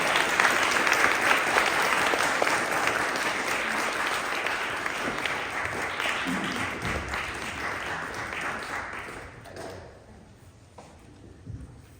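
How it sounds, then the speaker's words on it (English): Audience applause as a speaker is welcomed to the stage, a sustained, full round of clapping that gradually thins and fades toward the end, leaving a few scattered claps. "a big applause for Danja Bauer"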